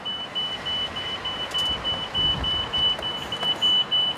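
A car reversing and maneuvering slowly, with a steady close engine rumble and a thin continuous whine running throughout, no talking.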